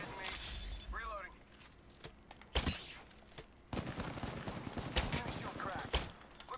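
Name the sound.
gunfire in video game Apex Legends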